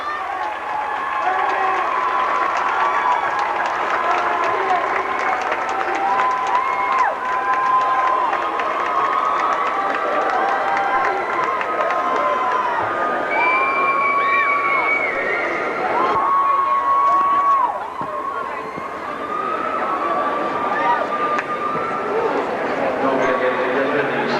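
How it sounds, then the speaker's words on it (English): Branford Hornets high school hockey fans cheering and applauding their Division II championship win over Shepaug in 1988, a dense, sustained crowd roar under a commentator's voice throughout. "A round of applause."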